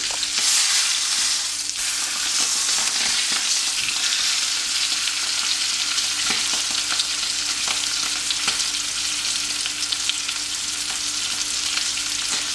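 Venison steak frying and browning in a hot pan, a steady, loud, dense sizzle that holds level throughout with faint crackles and no talking.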